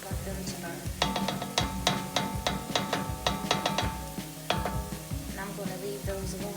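Onions fry and sizzle in a pot while a utensil scrapes and taps against the metal in quick repeated strokes, close and clear, with a voice speaking faintly in places.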